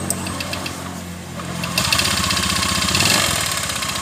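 A motorcycle engine runs steadily with a rough, uneven idle while its CVT is being checked, a close, continuous mechanical drone that grows slightly louder partway through.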